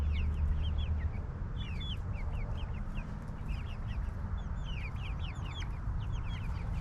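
A flock of hens and a young rooster in a yard with electric netting fence cluck and chirp continuously, many overlapping calls against a steady low outdoor rumble.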